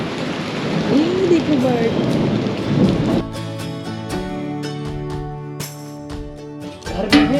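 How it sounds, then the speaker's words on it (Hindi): Morning rain falls steadily with low thunder rumbling, heard close and loud while a person briefly speaks over it. "बारिश स्टार्ट, अंधेरा हो गया है, सुबह के 8 बजे।"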